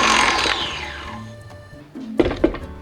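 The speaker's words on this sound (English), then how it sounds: "Cream the sugar and the butter" An electric mixer creaming powdered sugar into butter in a bowl: a loud whirring motor that winds down in pitch, then starts again with short bursts of beater noise, close up, no talk.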